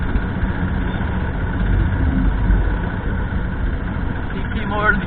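An old 1998 Royal Enfield Bullet motorcycle with a diesel compression-ignition engine idles in a steady, low, continuous thrum, with a voice talking over it.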